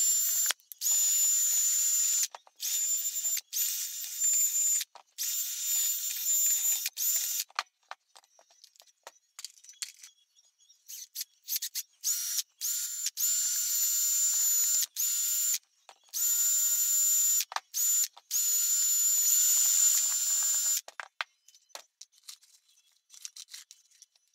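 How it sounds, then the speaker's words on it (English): Brass wire wheel whirring against Sealey DPV-2 drill press vise parts, long bursts of high buzzing grinding separated by short silences and lighter touches, close and loud with no speech. "we're going to clean up some of these items on the brass wire wheel"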